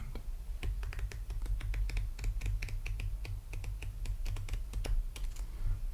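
Riffle shuffle of a deck of playing cards, a dense run of crisp, closely spaced clicks and flutters lasting several seconds, close and quiet, with a low background hum.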